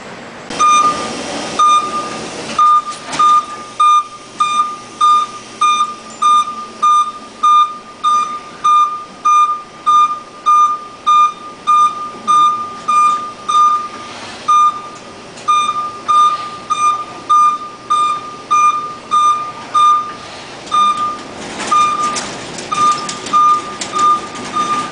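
A manually driven vehicle in the USPS Brooklyn mail processing and distribution center, giving off a steady train of regular warning beeps that repeat for nearly half a minute over a constant industrial hum.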